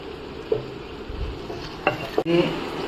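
Onions fry in a pan over medium flame for mutton kosha, with faint sizzling and a few light scrapes and clinks as they are stirred, close and fairly quiet.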